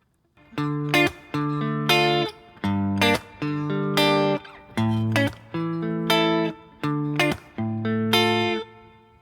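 An acoustic guitar plays a song's chord progression in a looping pattern of sustained strummed chords, roughly one every second, clear and close with no voices.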